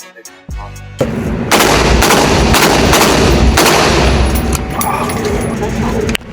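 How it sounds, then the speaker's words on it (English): A rifle fitted with an FRT trigger firing a fast, sustained string of loud shots, close and continuous for several seconds after a brief mechanical click at the start. "let's see how differently the rifle shoots if I were to put it in FRT mode"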